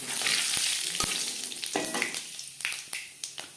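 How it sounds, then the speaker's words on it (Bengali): Whole spices hitting hot oil in a wok that was just used to fry potatoes and pointed gourd, with quick crackling sizzle and sharp pops, close and loud at first, then settling into scattered spits. "আলু পটল ভেজে নেওয়া কড়াইতে আবারও তেল দিয়েছি, ফোড়নে দিয়ে দিলাম"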